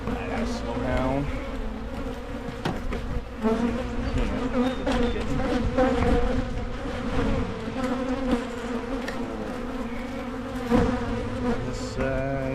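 Honey bees swarming around a hive during beekeeping work on split colonies, a dense, continuous close buzz with shifting pitch and a few individual bees droning past, no talk.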